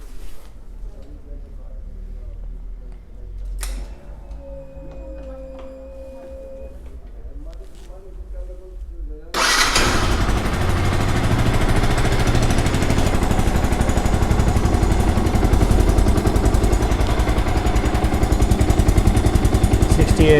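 A Yamaha R15 motorcycle engine fires up partway through after a quiet stretch, then runs loud and steady with a rough, revving drone until the end.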